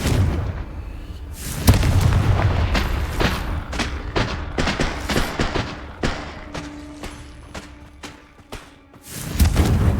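Explosions from the Confringo spell in the video game Hogwarts Legacy, as a dense run of booming blasts and crackling bursts, loud and continuous over several seconds.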